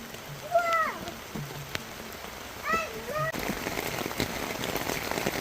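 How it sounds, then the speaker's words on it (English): Heavy rain during a thunderstorm hisses steadily and fairly softly, growing denser toward the end, while children's voices and squeals sound over it early on. "It's raining so bad."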